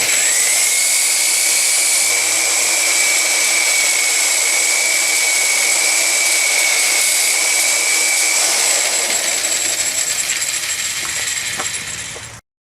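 A spur dresser held against a spinning wool buffing pad on a polisher makes a loud, steady high-pitched whine and grinding hiss that holds for about twelve seconds and then cuts off abruptly.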